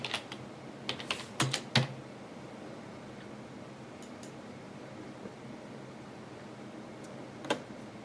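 Someone types a title on a computer keyboard: a quick cluster of close keystrokes in the first two seconds, then near silence over a faint room hum, with one more isolated click later.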